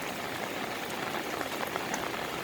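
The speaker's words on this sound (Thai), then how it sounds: "ฝนตกค่ะยังดีแน่นะคะเนาะบ่มีแดดมานี่ค่ะ" Steady rain pours outdoors on a day of filling land with soil, a dense, even hiss with no pauses and no voices.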